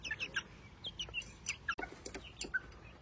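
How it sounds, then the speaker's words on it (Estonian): Chickens and a rooster on a farm in Estonia, with short clucks and chirpy calls scattered throughout at close range, one sharper call near the middle and no voices over them. "need on head kanad meil. Eesti kõige paremad kanad ja see kukk."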